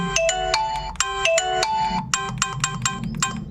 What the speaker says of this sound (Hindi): और रिंगटोन चाहते हैं आप तो रिंगटोन के लिए देखिए